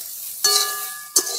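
Washed puffed rice lightly frying and being stirred in a pan, two short scraping, sizzling strokes, the first followed by a soft sustained hiss, close and clear.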